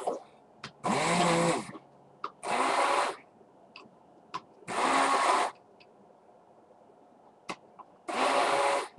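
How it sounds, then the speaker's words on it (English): A kitchen blender mixing a thick avocado hair conditioner whirs in four loud bursts of a second or so each, separated by quiet pauses with faint clicks. "I'm going to blend with my blender, so it's going to get pretty loud."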